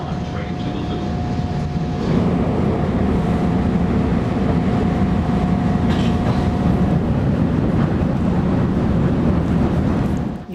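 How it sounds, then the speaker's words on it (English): An elevated Chicago ground line train running toward the Loop, loud steady rumble and rail roar close by throughout, with a brief tonal whine early on. "This is a ground line train to the loop."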